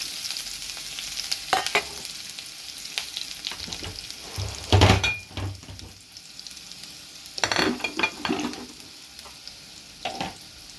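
Cumin and chopped onion frying in a pan for a toor dal curry, a constant crackling sizzle broken by loud scraping stirs in bursts, close up with no talking.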